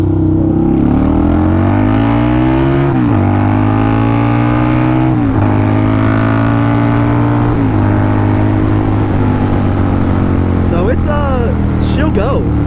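A 2005 Harley-Davidson V-Rod motorcycle at full throttle, loud and close, its engine note climbing steadily through several gear shifts with brief dips between them, and wind rush building toward the end.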